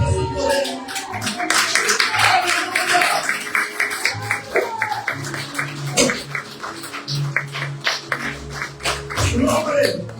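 Church congregation applauding together, a sustained dense patter of many hands clapping with voices and shuffling mixed in, steady and fairly loud throughout.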